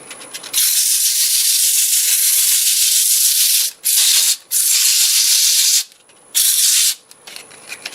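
Hand sanding a wood-turned piece with sandpaper against the spinning lathe work, a loud, steady hissing rasp in long stretches broken by short gaps as the paper is lifted and reapplied.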